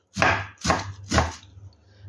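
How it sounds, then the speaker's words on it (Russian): Three firm knife chops thinly slice napa cabbage on a cutting board at an even pace, each a crisp crunch with a short thud, close by. "Пекинскую капусту нарезаем тонко."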